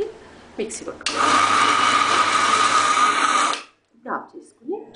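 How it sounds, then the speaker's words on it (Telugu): A kitchen mixer grinder whirs loudly and steadily for about two and a half seconds while grinding dried red chillies into a spicy Telangana-style powder, then cuts off abruptly; a voice speaks briefly before and after. "మిక్సీ పట్టుకోవాలి."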